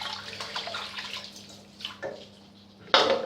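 Water trickles and splashes softly into a shaving bowl, a low continuous pour with small drips, quiet and close, ending in a brief louder splash.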